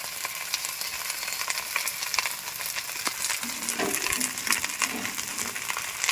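Spices with turmeric sizzle and fry in a pan for a chicken dish, a steady crackling hiss with intermittent scraping stirs and clinks of a utensil close by, no talking.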